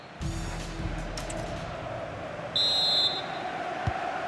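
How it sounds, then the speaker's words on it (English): A sharp referee's whistle in a football video game, a short steady blast standing out briefly over a low crowd murmur in a stadium setting. "So the referee's whistle and into the second act of the drama."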